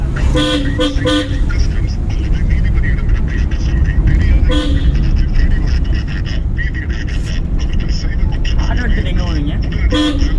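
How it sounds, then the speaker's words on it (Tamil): Car horns toot repeatedly in short bursts over loud traffic noise, with voices talking through the din. "ஹாரன் அடிச்சிருக்கோம்."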